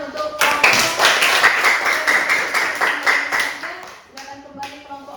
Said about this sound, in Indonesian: silakan beri tepuk tangan untuk